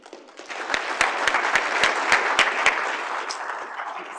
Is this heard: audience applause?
yes